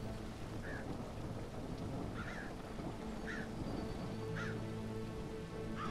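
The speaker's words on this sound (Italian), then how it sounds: "Piove un casino" Steady heavy rain pours throughout in a video game, with low rumbling thunder and a few short chirping calls cutting through the downpour.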